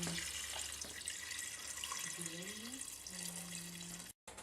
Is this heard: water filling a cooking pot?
yes